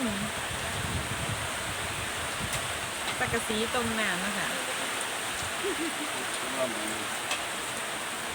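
Rain falls steadily outdoors as a dense, even hiss filling the whole scene, while someone talks over it close by.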